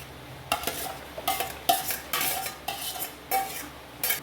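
A spoon stirs beef curry with plantain in a pot, making a run of close metallic clinks and scrapes in uneven bursts, with faint sizzling underneath and no talking.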